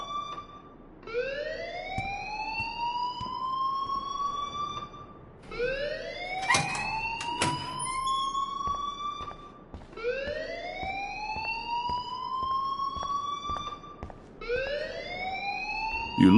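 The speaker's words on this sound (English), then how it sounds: "please turn off that alarm since that's your job." An alarm wails in the video game Life is Strange, rising and falling in long repeated sweeps for several cycles, loud and steady with no talking.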